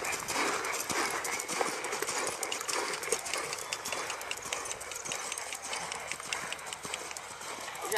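A horse named Win El Vector in training trots with steady, rhythmic clip-clopping hooves throughout, moderately close, over a broad outdoor noise bed and without clear speech.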